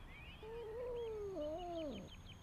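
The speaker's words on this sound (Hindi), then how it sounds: "यहाँ एक बिल्ली दरख्त में फंस गई है।" A cat stuck in a tree gives one long, drawn-out, wavering meow, fairly clear and moderately loud, with faint bird chirps in the background.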